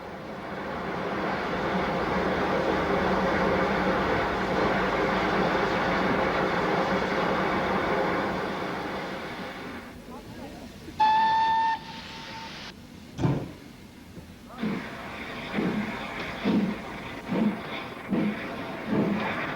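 A Great Western express passenger steam locomotive from Bristol Bath Road stands with a steady hiss for about ten seconds. A high whistle then sounds, followed by sharp, loud exhaust beats that start slowly and draw closer together as the train moves off.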